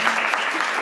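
Brief burst of audience clapping in a California state Senate committee hearing in Sacramento, steady and fairly loud across the short moment with a faint hint of voices beneath.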